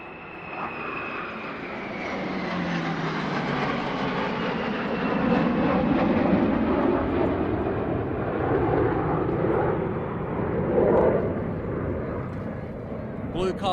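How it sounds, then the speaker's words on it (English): Fighter jets fly over a softball field in a loud, rising and falling roar that swells and fades across the sky, with voices heard beneath it. "You can see the fighter jets coming over."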